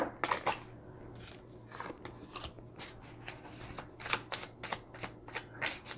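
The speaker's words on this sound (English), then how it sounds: "Okay, I'm going to shuffle now." Tarot cards shuffled by hand at close range, a steady run of crisp riffling and slapping flicks repeating in quick irregular rhythm over a low background hum.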